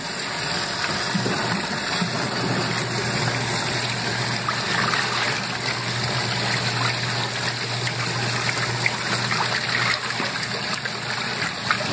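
Washing machine filling with water for a rinse of a big load, a loud steady rushing stream pouring and splashing into the drum, continuous throughout with a faint low hum underneath and no talk.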